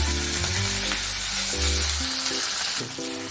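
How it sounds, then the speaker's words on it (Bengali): Paneer frying in oil in a pan for kadai paneer, a brief close burst of dense sizzling with a few stirring knocks, steady and loud throughout. "পনিরগুলো এবার আমি ভেজে নেব।"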